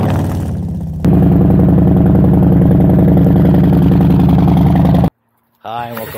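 A Harley-Davidson Electra Glide motorcycle idles loudly and steadily through its exhaust pipe with a thumping, even rhythm, a quieter start giving way to a louder run before it cuts out abruptly, followed by a brief return of sound.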